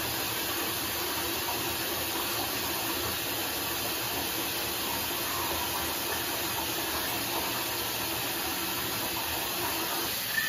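Water runs from a tap during rinsing as a faint, continuous hiss that holds even and unbroken throughout, with no voices.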